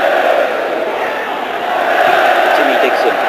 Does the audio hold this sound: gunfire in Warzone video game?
no